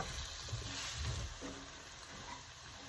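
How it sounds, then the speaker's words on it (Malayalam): Semolina (sooji) frying in a pan while it is stirred, a low, steady sizzle with soft scraping knocks from the stirring, faint and continuous throughout, with no talking. "ഈ സൂചി ഉണ്ടല്ലോ, അത് ഫ്രൈ ചെയ്യണം നന്നായിട്ട്"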